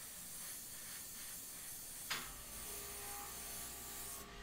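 An airbrush sprays sepia paint across a portrait, giving a steady, close, soft hiss that runs throughout, with a brief click partway through and no voices.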